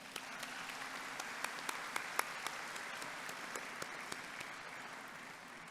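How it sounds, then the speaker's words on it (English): An audience applauds professors at a white coat ceremony, a quiet, steady patter of clapping with a few sharper, closer claps standing out. "Please join me in giving them a well-deserved round of applause."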